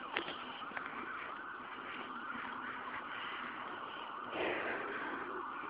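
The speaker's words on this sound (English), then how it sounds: "I know you guys can hear the ambulance in the background." A distant ambulance siren wails steadily in the background over faint ambient noise, with no one talking.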